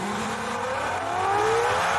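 Formula 1 cars from the 2004 season on the formation lap, engines rising in pitch as they accelerate past, loud and close with no voices.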